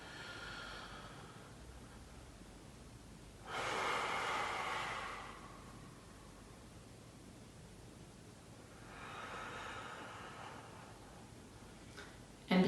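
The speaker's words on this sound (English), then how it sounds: "Let's have him take another deep breath." A man draws two slow, deep breaths, each a soft broad rush of air lasting over a second, spaced several seconds apart in a quiet room with no talking.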